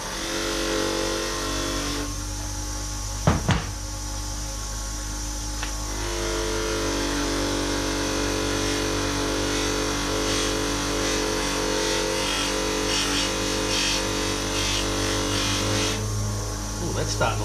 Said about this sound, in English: we'll give it a bash on here with the stitched wheel and the cutting compound